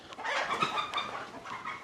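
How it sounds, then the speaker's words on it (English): Chickens on a goat ranch clucking in short, repeated bursts close by, several birds overlapping in a busy chatter with no talk. "And a lot of chickens over here."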